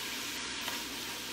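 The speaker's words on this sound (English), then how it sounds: "You wanna videotape the sizzling?" A pan of food for Korean kimbap sizzles loudly and evenly, a dense, close frying hiss that holds steady for the whole short stretch without any talking.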